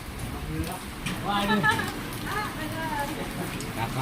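Steady rain falling, heard as a soft, constant patter in the background while people talk over it nearby.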